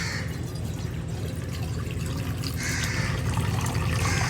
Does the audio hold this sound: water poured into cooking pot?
yes